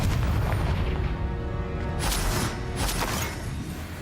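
In a Harry Potter video game, a Confringo spell goes off as a deep booming blast that rumbles and crackles for a few seconds, with no talk.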